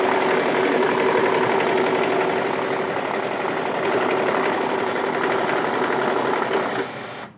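A banknote sorting machine runs steadily, a dense continuous whirring and rapid mechanical clatter of notes feeding through, loud and close, holding even for about seven seconds before cutting off abruptly.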